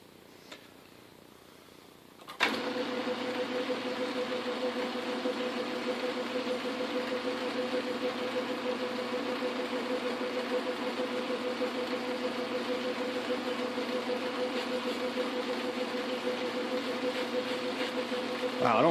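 A Logan lathe turns a gear sleeve, cutting away a radius in the corner: a steady, close mechanical hum with a constant tone, starting abruptly after a short quiet lead-in and running evenly to the end.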